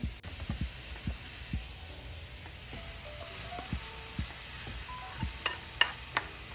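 Vegetables and shredded carrots cook in a pan with a quiet, low sizzle under scattered soft thumps and clicks of stirring, a few brighter clinks near the end.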